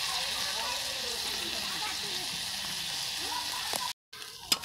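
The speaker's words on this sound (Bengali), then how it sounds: "ভালো করে ভেজে নিচ্ছি।" Food frying in a pan, a soft, steady sizzle and hiss close by, with a brief cut to silence near the end followed by a small clatter.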